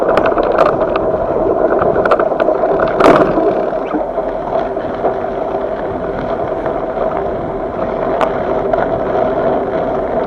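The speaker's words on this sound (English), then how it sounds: "the wind is blowing in this trail quite a bit" Steady wind roars across a camera mic during a bike ride to work along a snowy trail, a dense broadband buffeting that stays loud and constant, with a brief louder gust partway through.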